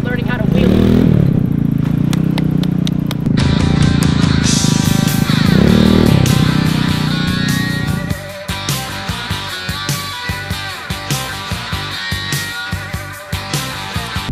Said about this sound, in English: This is Maverick learning how to wheel.